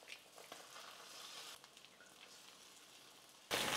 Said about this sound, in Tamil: நல்லா முட்டை வெந்து வரட்டும்